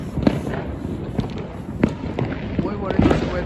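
Fourth of July fireworks burst in East Los Angeles, with repeated sharp booms and crackling pops at irregular intervals over a steady background roar, while people talk nearby.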